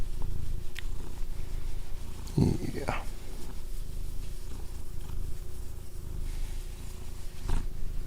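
Low, steady rumbling purr running throughout, close up, with a brief murmured word and a few soft bumps over it.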